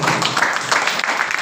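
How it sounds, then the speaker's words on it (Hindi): Audience at a business seminar on farming products breaks into brief, energetic clapping, a dense spatter of hand claps lasting about a second and a half with voices mixed in. "जोरदार जबरदस्त तालियां होती है"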